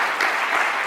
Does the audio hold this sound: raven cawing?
no